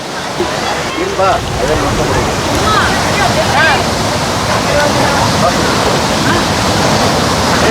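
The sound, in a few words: small waterfall, water flowing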